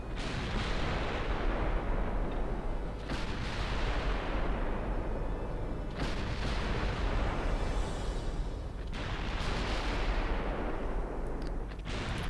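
Warship naval guns in the game Ultimate Admiral Dreadnoughts, firing in heavy, continuous barrages, with a sharp new salvo every few seconds that rolls into long, booming rumbles and never leaves a quiet gap.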